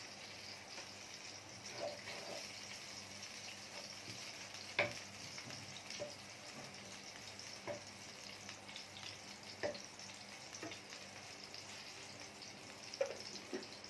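Beef tail fat fries with ghee in a pan, a soft continuous sizzle with scattered pops and occasional stirring knocks, fairly quiet and steady throughout.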